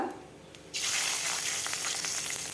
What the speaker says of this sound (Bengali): ওই মাছ ভাজার তেলেই দিয়ে দিলাম কালো জিরে, কাঁচা লঙ্কা